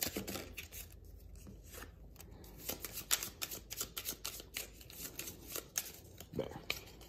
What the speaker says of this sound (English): So then we shuffle our deck.